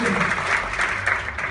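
A stand-up comedy audience claps together in dense, steady applause, close and loud across the whole short stretch with a faint murmur of crowd noise beneath.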